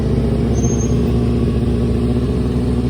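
A motorcycle engine idles and pulls away from a standstill as the clutch is let out, a loud, steady close-up drone throughout.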